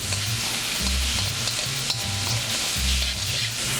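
Pork stir-frying in a hot wok for Chinese hand-pulled noodles, a steady loud sizzle with scraping stirs of the spatula at regular intervals, heard up close with no talking.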